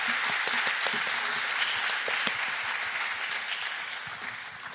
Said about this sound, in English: a huge round of applause for these amazing panelists, David, Hod, Kes,